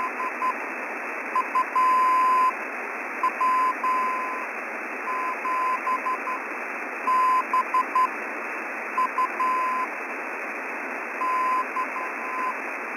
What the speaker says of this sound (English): That's what hams call Morse code.